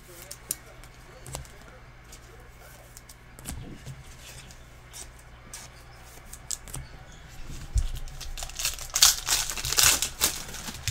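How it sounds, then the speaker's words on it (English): Trading cards slid into plastic sleeves during a 2017-18 Panini Essentials basketball case break, giving soft crinkling and rustling that builds toward the end, with faint voices and background noise underneath. "let me sleeve some of these cards real quick"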